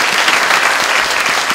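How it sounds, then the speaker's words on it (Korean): Audience applause at a job recruitment seminar, a dense burst of clapping, loud and close, lasting just over a second with no voices over it. "박수 한번 치시죠."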